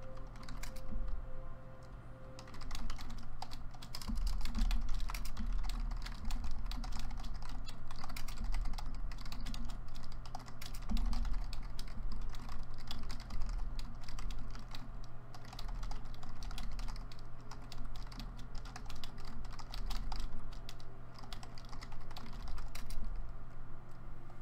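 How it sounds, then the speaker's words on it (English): Typing on a computer keyboard during an online strategy game, with steady rapid key clicks that run continuously for over twenty seconds, close and fairly quiet, with no one speaking. "I'm typing because I promise you it's a lot better for me to type what I'm typing than to say it out loud"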